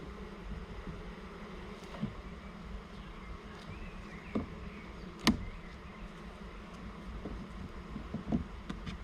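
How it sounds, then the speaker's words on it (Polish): A steady, dense hum of many honeybees buzzing around a hive in an outdoor apiary, continuous throughout with occasional light knocks and soft wind noise. "ale pszczoły spokojne"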